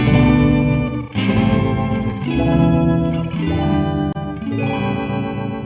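An Electro-Harmonix organ emulator pedal gives sustained, organ-like chords that shift in phrases, with a gentle vibrato tail trailing off each one, played alone and fairly loud.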